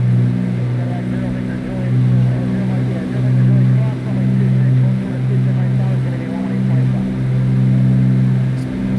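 Twin Beechcraft Baron B58 propeller engines in X-Plane 12 on final approach near New York City, a steady droning hum with slow beating pulses between the two engines, loud and continuous while a voice talks over it.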